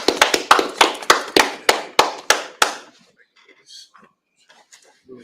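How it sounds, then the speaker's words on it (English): A church congregation at a Sabbath service claps hands in a brisk, loud run of about a dozen sharp claps over a few seconds. The clapping then stops, leaving faint scattered sounds. "Clap it up."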